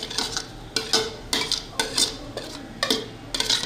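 Chopped carrots go into a pot of nearly boiling water for chicken soup, with repeated sharp clinks and scrapes of a utensil against the pot at a regular rhythm, close and fairly loud, without talk.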